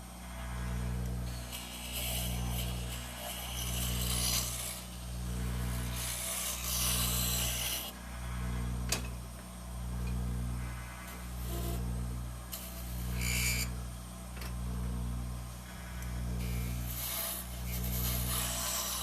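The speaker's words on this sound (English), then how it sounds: "Show you how quickly we wet sand on the lathe." Steady rhythmic rubbing rasp repeating about every two seconds over a low motor hum, from wet sanding a pen on a spinning lathe.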